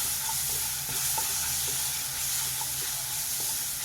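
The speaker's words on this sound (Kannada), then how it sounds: "ಚೆನ್ನಾಗಿ ನೀವು ಫ್ರೈನ ಮಾಡ್ಕೊಳ್ಳಿ." Ground green chili, cumin and garlic paste frying in a pan for ridge gourd fry, giving a steady close sizzle and hiss with occasional soft stirring scrapes.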